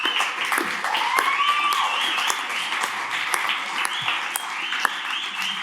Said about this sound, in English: Give them a big round of applause, guys.